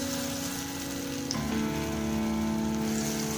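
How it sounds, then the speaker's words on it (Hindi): Moong dal pakoras frying in hot oil, a steady close sizzle running throughout with a brief change as batter drops in around midway. "उसके बाद हम अपने फ्राई करेंगे पकौड़े।"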